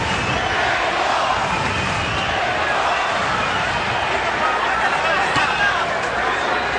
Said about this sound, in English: the crowd is really into it here